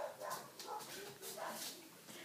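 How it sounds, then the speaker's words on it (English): Several dogs bark and yip in excited bursts indoors, reacting to other dogs outside, the sounds fairly faint and repeated in an uneven rhythm with a hint of whimpering. "the dogs are going crazy because there's dogs outside"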